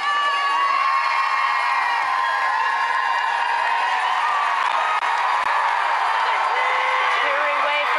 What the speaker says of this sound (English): Cheering away from Prince Philip.